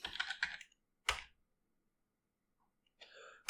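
Close, quiet clatters of computer keyboard typing come in short bursts, with a single firm keystroke like an Enter press between them and brief silences around them.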